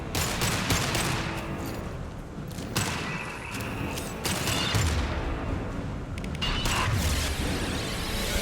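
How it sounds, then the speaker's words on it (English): Heavy weapons fire erupts in Mass Effect 2, dense sustained volleys of gunshots with booming thuds and sharp cracks, loud and near, continuing almost without pause. "Taking heavy fire."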